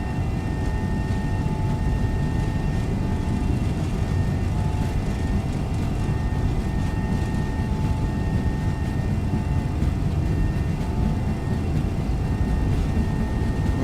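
MD-11 jet engines at takeoff thrust in X-Plane 12, a steady loud roar with broadband rumble and sustained tonal whine, continuous and unbroken throughout the takeoff roll.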